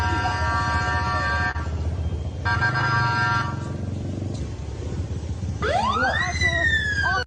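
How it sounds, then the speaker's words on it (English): A police siren in Iran wails loudly, its pitch sweeping up and then holding, near the end of a noisy street stretch with honking and talk underneath. "you can hear the police sirens"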